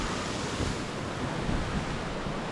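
Rushing rapids and a waterfall in the Szalajka valley of Hungary make a steady, loud, broadband roar of falling water, continuous throughout with no pauses and no talk over it.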